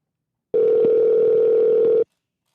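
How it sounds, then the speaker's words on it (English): A telephone line tone sounds while a call about renting commercial space waits to be answered: one steady, clear tone of about a second and a half, alone, with no talking. "Answer the phone, Greg."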